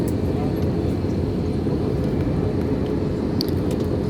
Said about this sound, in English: turbulence is shaking the aircraft really badly